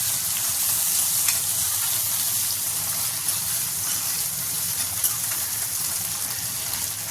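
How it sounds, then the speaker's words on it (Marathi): Onion and tomato masala fries in a pan, making a loud continuous sizzle with faint stirring scrapes, steady throughout and close up. "मसाला सर्व कांदा टमाटर भाजून झाला आहे"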